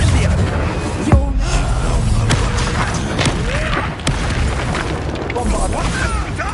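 Fire spell Incendio cast during a Hogwarts Legacy battle, with sharp bursts and thumps over dense, busy combat noise and game music, while a character's voice speaks throughout.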